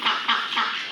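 Village ducks kept alongside cattle give a few short, loud, nasal quacks in quick succession, close by.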